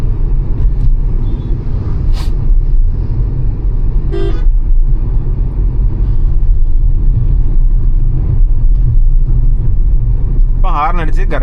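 A Tata Punch automatic's horn gives a few short, light toots in city traffic, heard inside the car over a steady low engine and road rumble, with a voice talking throughout.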